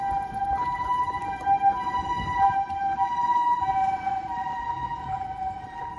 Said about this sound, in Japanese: 救急車はもうしょっちゅうですね